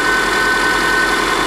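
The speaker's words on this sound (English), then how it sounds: "as far as the engine goes, it's running pretty smooth" A rebuilt Subaru EJ25 engine idling steadily, a smooth, even close hum with a faint hint of an exhaust leak, loud and unbroken with no talk.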